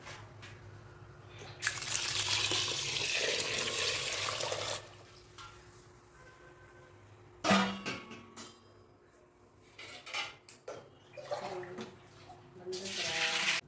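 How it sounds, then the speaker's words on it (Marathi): Water is poured into a half-filled tin during wheat-milk preparation, with a steady gush for a few seconds, then shorter splashing pours and trickles close by, the whole fairly quiet. "मी पाणी यामध्ये पूर्ण भरून टाकणार आहे"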